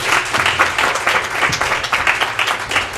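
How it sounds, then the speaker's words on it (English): Audience applause for the cast at a film Q&A, a dense, steady wash of many hands clapping close by, loud and continuous throughout, with faint voices mixed in. "A nice round of applause for,"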